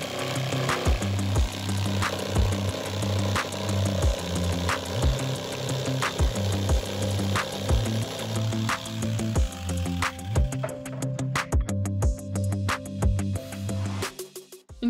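Power saw cutting through 250 cm wooden boards to trim off 10 cm, a loud steady machine whine with repeated sharp strokes running throughout, tapering off near the end.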